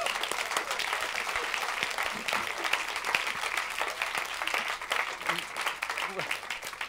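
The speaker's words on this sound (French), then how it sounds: "Vous avez raison, on peut les applaudir pour leur franchise" Comedy club audience applause at a stand-up final, sustained dense clapping from a crowd throughout at steady volume, with voices mixed in.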